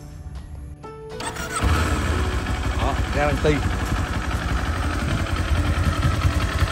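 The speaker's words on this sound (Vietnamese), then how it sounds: "Đây là tiếng máy xe." A Kawasaki Z400 motorcycle engine turns over and settles into a steady, close idle with a deep rumble; brief speech is heard over it.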